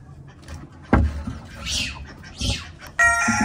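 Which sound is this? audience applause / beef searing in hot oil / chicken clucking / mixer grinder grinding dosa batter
chicken clucking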